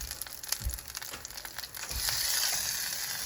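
Food sizzling and frying in a pan as it is flipped, a steady close crackle with soft thumps and scraping, the sizzle swelling louder after the turn, no talking.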